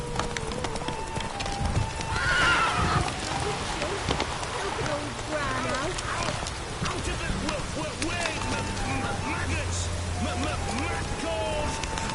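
Hoofbeats of the horse Roach galloping in The Witcher 3, a steady clip-clop with neighs and whinnies, heard under ongoing talk and game sounds.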